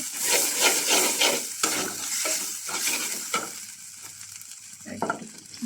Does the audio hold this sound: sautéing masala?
yes